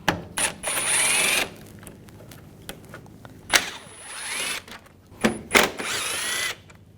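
A power driver with a T30 Torx socket whirs in several short bursts, backing out screws on the radiator fan assembly of a 2004–2009 Audi A4, with brief pauses and ratcheting between runs.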